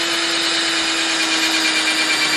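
A small power drill boring lace holes through an Air Force 1 sneaker, a steady high-pitched whine held continuously and close up.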